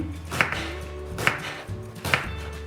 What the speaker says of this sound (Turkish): Baklajanlarymyzy 4 türje edip kiçiräk edip keseliň